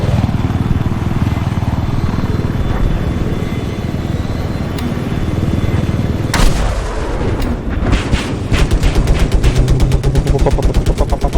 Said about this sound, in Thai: โดนรถถังยิง